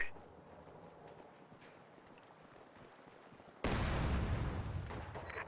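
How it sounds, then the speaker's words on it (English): Heavy mortar fire in Company of Heroes 2 hits a squad capturing a strategic point: quiet battlefield ambience, then a sudden loud, broadband blast that holds as a sustained rumble through the final seconds. "Heavy mortar is firing on the squad capturing the strategic point there."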